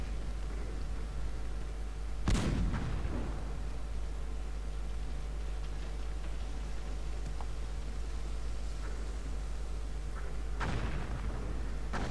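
Artillery cannon fire in the video game Cossacks 2, with two loud booming shots several seconds apart over a steady low rumble and faint background clatter.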